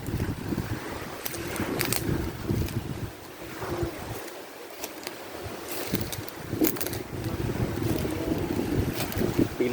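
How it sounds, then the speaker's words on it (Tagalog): Strong gusting wind and heavy surf on a coast at night, a loud, rough roar that swells and eases, briefly dropping around the middle before building again. "Bigla kasi yung naglakihan ng alon at saka hangin, lumakas ang hangin"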